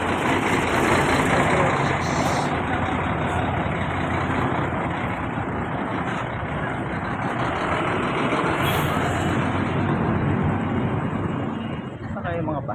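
Buses idle near Subic Bay beach, a constant diesel rumble and hiss filling the scene, with a bright beep-like tone near the start and voices faintly mixed in.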